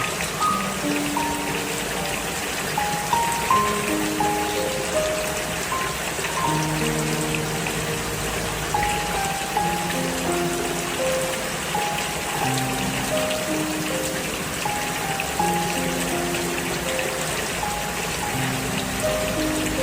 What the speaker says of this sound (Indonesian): Pas mau pulang tiba-tiba hujan.